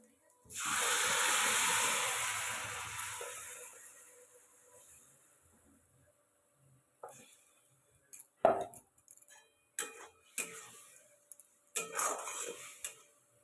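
Spice paste hits hot oil in a pan and fries with a loud burst of hissing sizzle that fades over a few seconds, followed by scattered clinks and scraping of utensils, while a voice speaks briefly.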